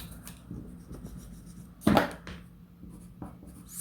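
Pencil scratching on paper in short, quiet strokes, with one louder rubbing burst partway through, close up and without talk.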